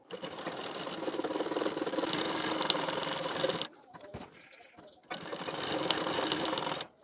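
A sewing machine stitching a blouse shoulder seam with a half-inch allowance runs in two long, fairly loud spells of rapid mechanical whirring, broken by a short quiet pause with faint handling noise.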